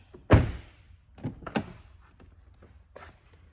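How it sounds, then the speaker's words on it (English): A Chevrolet Impala's door shuts with a heavy close thunk, followed by softer clicks and thuds as it is opened and handled again, close by with no talk. "we're gonna go ahead and close and open the door just to light up the dash"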